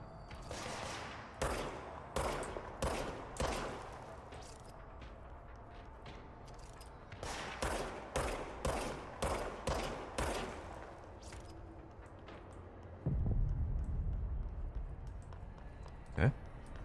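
Enemy gunfire in the video game Control, two separate bursts of rapid, evenly spaced sharp shots, a pause between them, then a heavier low thump and a single crack near the end.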